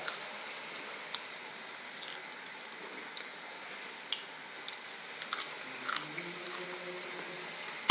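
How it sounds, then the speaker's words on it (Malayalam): Someone eats jackfruit up close, with soft, wet chewing and biting clicks scattered unevenly over a quiet background, a few sharper crunchy bites standing out near the end; no talking. "ഞാൻ തിന്നണ്ട ശബ്ദം"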